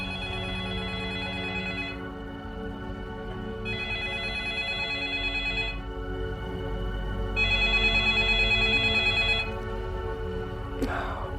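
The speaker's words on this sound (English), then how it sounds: "It's like he hears the phone ringing." A telephone rings in three long electronic trills separated by pauses, heard close over a low droning background, with a brief sharp noise near the end.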